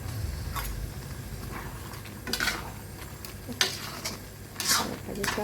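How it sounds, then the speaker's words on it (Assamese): Fried taro pieces go into a pan of vegetables for a traditional Assamese pani lau and are stirred, with several sharp spatula scrapes and clinks against the metal over a low background hum. "এতিয়া মই এয়া ভাজি থৈ দিয়া কচুখিনি ইয়াতে দি দিম।"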